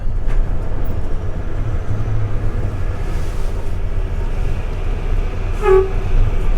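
A short horn toot signalling to stop sounds near the end over a steady low rumble of an idling HGV, with no talking.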